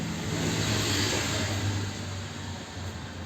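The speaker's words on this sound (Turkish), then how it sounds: "Bu arada kusura bakmayın yoldan araba geçti." A car passes along a road next to a home garden, a loud broadband whoosh and engine rumble that swells early and then gradually fades as it moves away.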